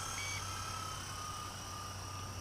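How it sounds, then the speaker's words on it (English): Low-battery alarm on a Blade 120 S2 RC helicopter, a steady high electronic tone running throughout over a constant hum, with no talking. "The alarm is already going off."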